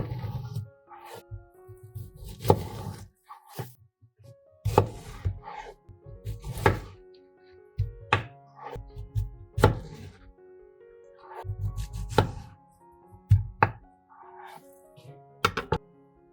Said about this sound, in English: Divide the melon into bite-sized pieces.